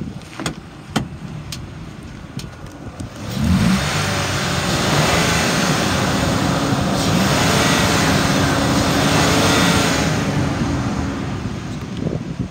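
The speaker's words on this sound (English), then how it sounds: "Motor sounds good, revs up nice," The engine of a 2006 Ford F-150 XL pickup idles, then revs up and holds a loud, steady roar for several seconds before easing slightly, heard up close with no talking.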